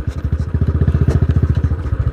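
Royal Enfield Bullet motorcycle ridden on an off-road track, its single-cylinder engine thumping in a fast, even, loud pulse close by, with a little rattle over the beat.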